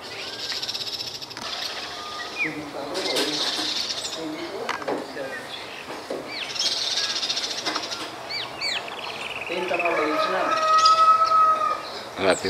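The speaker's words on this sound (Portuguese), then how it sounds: "os pássaros pretos estão ali, tá vendo?" Black birds calling in a rural area of Mato Grosso, with scattered chirps and whistled calls at moderate distance, mixed with a person speaking and rising in a denser chorus near the end.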